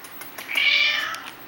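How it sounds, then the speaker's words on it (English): A house cat named Nikolai gives a single drawn-out plaintive meow, close and clear, with faint tapping in the background before and after. "Yeah, saddest kitty cry."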